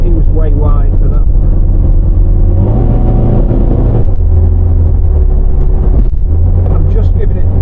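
A Ford Cortina Mk3 with a new engine runs on the road, its engine loud and close, rising and falling in pitch as it revs through up and down gear shifts, with someone talking over the drone.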